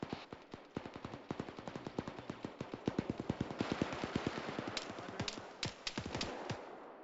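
Rapid incoming gunfire in a military shooter game, a long run of sharp distinct cracks in quick irregular succession, moderately loud and steady throughout with occasional heavier bursts.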